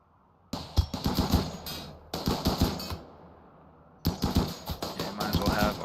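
Gunfire in the colony-management game RimWorld as colonists shoot at a turret: rapid clattering bursts of close, sharp shots in three runs separated by brief pauses, with a voice speaking faintly under them.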